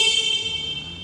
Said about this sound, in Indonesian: Jadi suara klaksonnya standar untuk klakson sepeda motor.